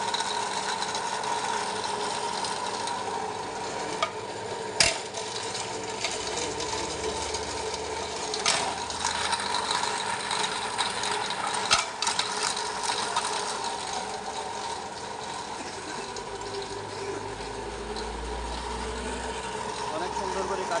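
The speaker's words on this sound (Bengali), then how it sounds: "এটা আপনারা মেশিন এখানে দিলে কাটিং করে ফেলবেন।" A wooden ghani oil mill machine runs with a steady, droning mechanical hum and ratcheting clicks, with a few sharper knocks as it cuts; voices murmur faintly underneath.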